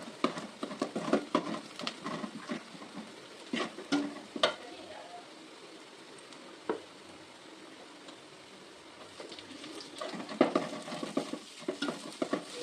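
Large onions, half an onion's worth, frying in a pan while being stirred for a spicy crab curry, with scraping and clinking stirs over a soft steady sizzle, fairly close.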